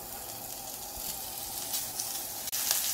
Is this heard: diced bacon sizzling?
yes